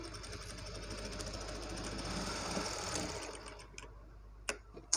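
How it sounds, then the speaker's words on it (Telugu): Sewing machine stitching a folded edge of blouse back-neck fabric, a steady close mechanical whirr for about three seconds, then a few sharp isolated clicks as it stops. "ఇక్కడ ఫోల్డింగ్ చేసిన దాన్ని ఒక చిన్నగా స్టిచ్ అయితే వేసేయాలండి"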